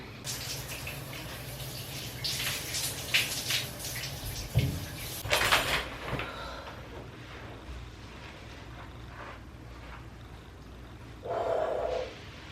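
A shower running indoors gives a steady, broadband hiss of spraying water with a few louder splashes and surges as the flow shifts, close and continuous, with no talking.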